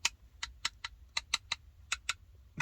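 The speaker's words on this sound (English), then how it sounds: "you can hear there's actually some clicking, which means it's not completely" A drum practice pad whose surface is not fully glued to its base clicks sharply about eleven times in an uneven rhythm, each close, crisp tick standing alone over a quiet background.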